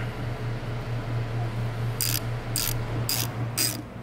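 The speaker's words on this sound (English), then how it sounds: "you're going to take your screw and you're going to put the screw back on" Ratchet wrench tightening the battery terminal screw on a Jeep Wrangler JK, four quick clicking bursts in steady rhythm, close and clear, over a low steady hum.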